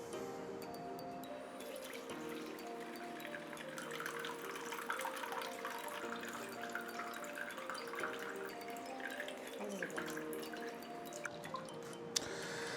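Watermelon juice is strained, liquid trickling and dripping steadily through a strainer, quiet and close with a few faint clinks.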